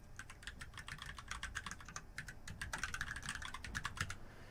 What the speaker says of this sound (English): we'll type in the username and password for the local administrator account on that server